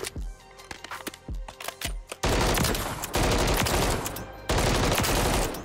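Modern Warfare 3 gunfire: first a run of separate sharp shots, then long loud continuous bursts of automatic fire, close and dominant throughout.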